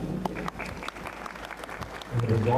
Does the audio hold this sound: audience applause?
yes